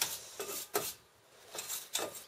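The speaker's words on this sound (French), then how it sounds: "prenez une brosse métallique" Stiff wire brush scrubbing Renault Clio 2 brake parts during a pad and disc change, a few quick rasping strokes in bursts, close and fairly loud with no talking.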